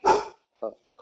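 A house dog gives three short barks, the first loudest and the next two quicker and softer, spaced by brief silences.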